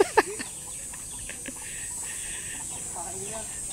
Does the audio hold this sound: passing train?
no